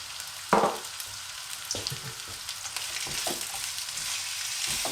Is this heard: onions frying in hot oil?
yes